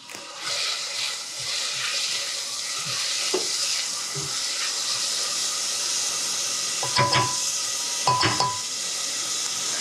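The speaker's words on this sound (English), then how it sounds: "we're gonna add our grated garlic in with our onions. And grab my spatula and give those a stir" Grated garlic and onions sizzle in a pan, a steady bright frying hiss broken by a few scraping knocks of a spatula stirring them, close and with no talking.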